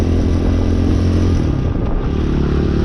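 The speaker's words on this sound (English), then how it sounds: "hear that power from the engine" A High West Hawk 250cc street-legal dirt bike engine drones loud and close, holding a steady rumbling rev throughout with no pauses.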